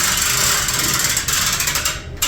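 A power tool whirring and rattling in a rapid pulsing buzz while backing bolts out of a refrigeration evaporator during an HVAC repair, loud and close, cutting off briefly near the end.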